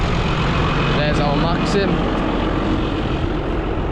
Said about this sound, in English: Love that tractor.